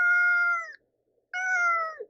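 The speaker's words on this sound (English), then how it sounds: "he's a very vocal cat, so if you hear him meowing, yeah, that's my Siamese kitty" A Siamese cat gives two loud, drawn-out meows close by, separated by a brief silence, with no talking.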